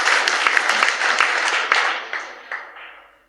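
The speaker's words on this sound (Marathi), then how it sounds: "त्यांच्या जोरदार टाळी वाजवा त्यांच्यासाठी" A crowd at a Marathi religious discourse during an annual temple fair claps loudly, the applause dense at first, then thinning into a few scattered claps before fading out.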